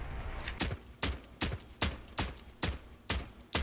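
Rapid gunfire in the tactical shooter Rainbow Six Siege rings out in a series of sharp, evenly spaced bursts, seven or eight loud cracks in a steady rhythm over a low game hum.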